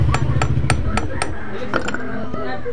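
A DIY stainless steel fishing hook is struck with a hammer in a quick series of about nine sharp metallic taps, close and loud, a little irregular in pace, with no talking.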